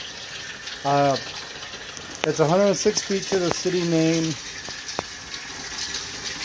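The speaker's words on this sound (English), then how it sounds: "So I got the utility sink filling up with water." A utility sink fills from the tap with a steady, low rush of running water in the background while someone talks over it.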